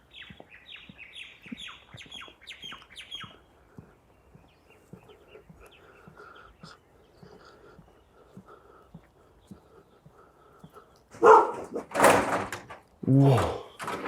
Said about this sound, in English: Listen to the tweets of the birds, the woofs of the dogs.